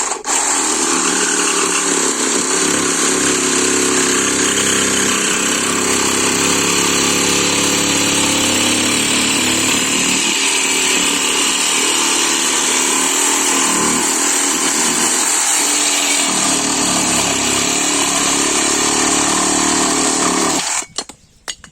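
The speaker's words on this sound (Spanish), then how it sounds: "Vamos a darle con la hoja de sierra, que ya le hemos cambiado previamente. Sierra para metal" A Hychika cordless lithium-battery reciprocating saw with a metal-cutting blade saws through a piece of hard iron, giving a loud, continuous buzzing rasp that holds steady for about twenty seconds before cutting off abruptly at the end.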